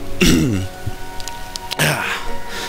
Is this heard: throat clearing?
yes